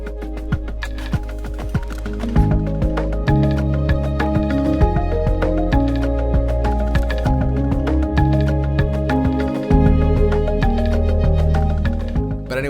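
Orchestral chamber strings in a dense, sustained arrangement, with rhythmic chopped bowing and shimmering tremolo layers, playing steadily and loudly throughout without any talking.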